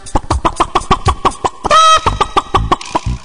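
A voice imitates a hen clucking in a children's animal-sound contest song, with a rapid run of short, evenly spaced cluck bursts, loud and close, plus one sustained squawk midway.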